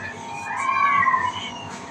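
Cats meow in a drawn-out, wavering cry that swells near the middle and fades, fairly close and loud over low background noise, with no talk.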